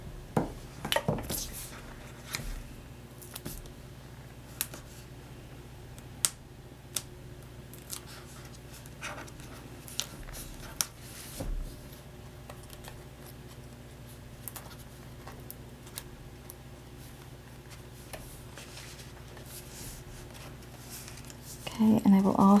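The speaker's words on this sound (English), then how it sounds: "I'm gonna just cut it in half with my scissors like that" Scissors snip through a strip of foam tape at a crafting table, a few short crisp cuts standing out near and close, with a person talking throughout and light handling noises of paper and supplies around them.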